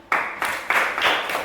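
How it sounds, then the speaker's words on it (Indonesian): A classroom of students claps hands together in short, sharp bursts, four or five distinct rounds of clapping, each starting abruptly and fading briefly before the next, close and fairly loud. "Oke, tepuk tangan."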